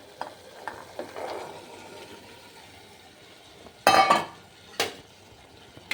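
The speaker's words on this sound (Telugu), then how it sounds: "బాగా కలుపుకోవాలి కంది గింజలు." Pigeon peas are stirred into tomato masala in a pan: quiet scraping at first, then a few louder bursts of spoon-on-metal clatter close by.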